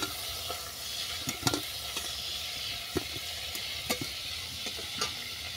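Shrimp fry lightly in oil with a soft, steady sizzle while a utensil stirs and scrapes the pan in occasional light knocks, fairly quiet and close.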